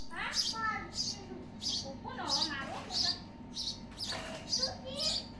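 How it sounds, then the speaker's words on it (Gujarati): A house sparrow chirps in a village setting, giving a series of short, bright, rhythmic tweets at moderate distance, with soft voices in the background. "પેલી ચકલી હતી"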